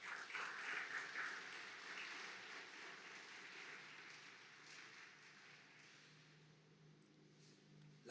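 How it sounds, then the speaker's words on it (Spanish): A church congregation applauds during a Christmas service, a soft, distant wash of clapping that slowly fades over several seconds. "Denle un fuerte aplauso al Señor."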